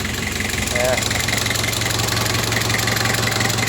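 A Nissan Big-M pickup with a TD27 diesel engine runs steadily close by, a loud, rough, knocking idle with a constant low throb and no clear revving.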